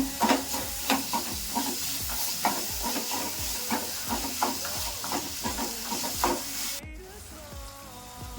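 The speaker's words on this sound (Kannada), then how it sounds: "ಈರುಳ್ಳಿ ಒಂದು ಸ್ವಲ್ಪ ಬಾಡಬೇಕು, ಅದ್ರ ತನಕ ಫ್ರೈ ಮಾಡ್ಕೋಬೇಕು." Chopped medium onions frying in a pan, a steady sizzle with repeated clinks and scrapes of stirring, close and clear, ending with a sharp sizzle burst.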